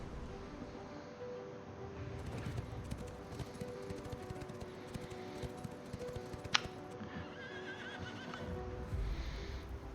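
A horse in the video game Ashes of Creation neighs and whinnies amid clip-clopping hooves and game background sound, moderately close, with one sharp louder accent partway through.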